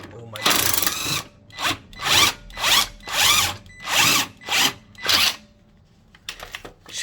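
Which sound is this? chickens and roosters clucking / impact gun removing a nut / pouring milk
impact gun removing a nut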